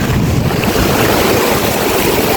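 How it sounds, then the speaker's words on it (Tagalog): Strong waves crash and wash close by on Patar White Beach, Bolinao, Pangasinan, a loud, continuous roar of surf mixed with wind buffeting the microphone, no voices. "Lakas ng alon."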